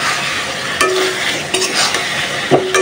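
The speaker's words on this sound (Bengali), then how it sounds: "তো মশলার সাথে মাছটা ভালোভাবে কষায় নিছি" Snakehead fish sautéing in a pan with spice paste and cumin powder, a loud continuous sizzle with periodic scraping stirs and light clinks of a utensil against the pan.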